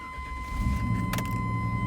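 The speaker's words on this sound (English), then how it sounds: "Let me start the truck up real quick." A Chevrolet pickup truck engine cranks and catches, settling into a low steady idle rumble heard from inside the cab, with a thin electrical whine throughout and no talking.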